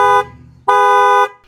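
Two loud blasts from a truck horn, a short one then a longer held one after a brief gap, steady and harmonic, with no voices.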